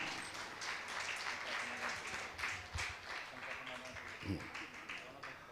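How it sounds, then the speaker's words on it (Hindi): Applause from an audience at a Jain religious question-and-answer gathering in Fatuha, Patna, a quiet, steady wash of clapping heard at a distance, continuing evenly throughout. "आपकी तालियां लगातार इनके सम्मान में बजती रहें।"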